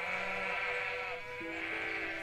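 Sheep bleat in the Everdream Valley video game, wavering drawn-out bleats that overlap over a constant background music bed, moderately loud and steady.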